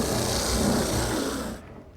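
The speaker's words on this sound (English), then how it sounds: "now I'm just going to sand them and round over the corners a little bit" Wooden chair parts are hand-sanded to round over their corners, giving a close, continuous rasping rub that fades out at the end.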